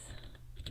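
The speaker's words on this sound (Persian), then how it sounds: "من دارم فارسی تایپ میکنم" Fingers tap quickly on a computer keyboard while typing Persian text, a run of faint, soft clicks heard close and alone.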